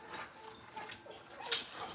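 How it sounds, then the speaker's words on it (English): A shop dog at a drag racing garage yips and whimpers in short, fairly close bursts, with a sharp high yelp standing out partway through and no voices over it. "Our inside dog, shop dog, he likes to be outside as much as he likes to be inside now."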